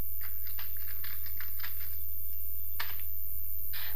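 Computer keyboard keys clack in short, uneven bursts while C++ code for a simple calculator program is typed, with a few pauses and one sharper keystroke near the end over a steady low hum.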